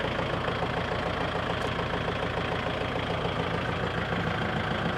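A tractor engine runs steadily with a rotary tiller RX182F-S engaged, a constant loud mechanical drone with a low throb and no pauses.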